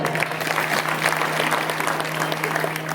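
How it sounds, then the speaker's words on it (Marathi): Audience applause at a kirtan, a steady dense clapping from a crowd lasting the whole moment, with a faint hum underneath. "इथं पखवाजा नंबर 1 आहे, त्यांच्यासाठी टाळ्या वाजवा"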